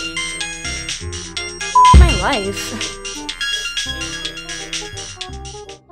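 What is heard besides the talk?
phone ringing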